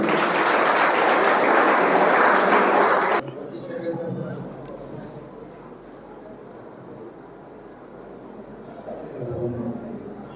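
Students at a school moral-education event in Jharsuguda, Odisha burst into loud, dense clapping to welcome a guest. It lasts about three seconds and cuts off abruptly, followed by quieter room sound and talking.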